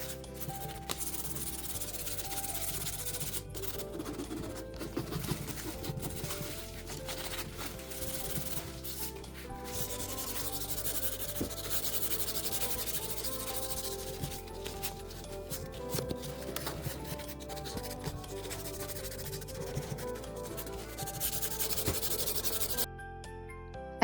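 Painted vintage wooden end tables are hand-sanded with 220 grit sandpaper between coats, a steady close-up scratching and rubbing that runs continuously before stopping abruptly at the end.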